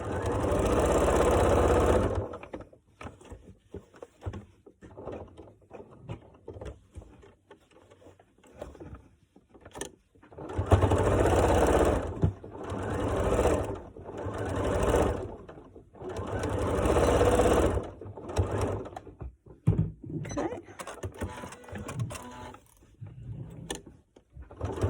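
A sewing machine runs straight stitching over a mask's nose piece in repeated bursts, a steady mechanical whirr that starts and stops several times with short pauses between runs, close and fairly loud.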